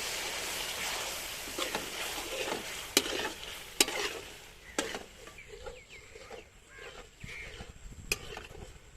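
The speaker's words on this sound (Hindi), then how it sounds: "खड़े मिसाले को थोड़ा सा फ्राई कर लेंगे" Whole spices, including cardamom, cloves, black peppercorns and cumin, fry in hot oil for chana pulao with a crackling sizzle, punctuated by several sharp pops and spoon scrapes that fade somewhat toward the end.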